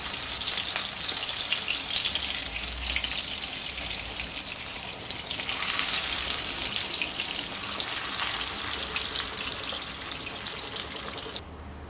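Eggplant rolls fry in oil with a continuous hissing, watery sizzle at moderate volume. It surges briefly in the middle and cuts off abruptly at the end, with no talking.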